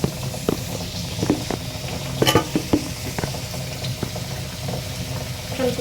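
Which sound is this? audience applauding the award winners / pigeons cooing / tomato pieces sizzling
tomato pieces sizzling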